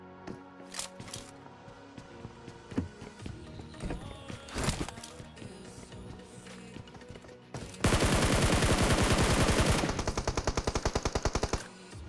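AKM gunfire in the mobile battle royale BGMI during a close-range fight: scattered single shots and short bursts, then a loud sustained automatic burst followed by a rapid string of shots near the end.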